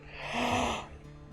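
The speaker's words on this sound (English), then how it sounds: "Ignore that yawn." A single breathy yawn, a drawn-out open-mouthed inhale and exhale swelling and fading over about a second, close and fairly quiet.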